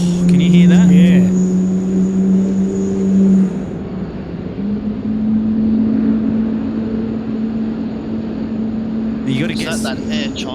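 Jet aircraft engine at Sydney Airport at night, a steady loud drone and hum that holds through the whole stretch, with voices talking over the start and near the end.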